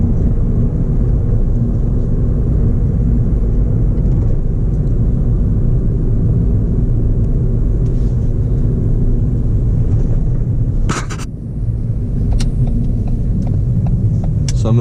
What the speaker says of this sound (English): So clutch in, shift, hit the gas, and release the clutch.